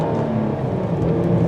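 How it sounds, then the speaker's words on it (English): A Kia Cadenza sedan engine revving in first gear, a steady, loud, raspy drone heard from inside the car, no talking. "Let's hear how this engine sounds."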